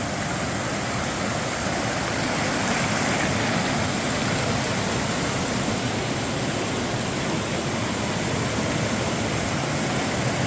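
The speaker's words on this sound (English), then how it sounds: "here's some fast-moving cascades." French Creek rushes over boulders in fast-moving cascades, making a dense, steady roar of water. It is loud and close, with no pause and no voices.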